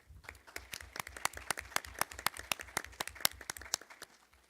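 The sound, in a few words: audience applause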